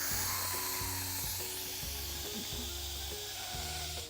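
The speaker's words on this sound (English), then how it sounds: "we're gonna turn it to quick release, which is turning it to venting so all the steam will come out" An Instant Pot on quick release vents steam in a loud, continuous hiss that lasts the whole stretch, with a low, steady tonal hum underneath.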